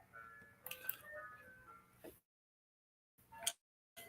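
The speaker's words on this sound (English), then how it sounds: "They continue to have an ice cream truck around." Ice cream truck jingle playing faintly in the background, a tonal melody for about two seconds, then a gap of silence before brief bursts return near the end.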